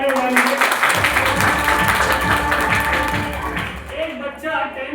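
A seminar hall audience clapping loudly together, a dense burst of applause that carries on for several seconds before thinning out, with a voice heard over the end.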